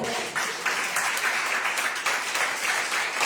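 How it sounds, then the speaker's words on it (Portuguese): Church congregation applauding together during a sermon, a continuous, fairly loud wash of clapping that holds steady throughout without any voices over it. "Você pode aplaudir o Senhor?"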